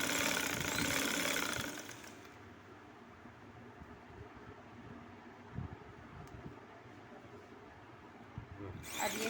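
A sewing machine stitches a gathered frill onto a skirt, running as a low, steady mechanical whir close by, after a brief louder rustle of fabric at the start and a slight rise at the very end.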